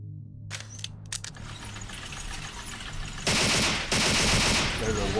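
Gunfire in Vampire the Masquerade Bloodlines as shots are aimed at breakable vases, opening with a few sharp cracks followed by a dense, loud burst of rapid shots that breaks off briefly and resumes.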